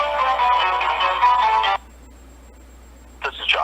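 Telephone ringback tones on a hold line during a call transfer, a loud sustained burst of ringing that stops abruptly, followed by a short silence and then a brief start of further tone or voice at the end.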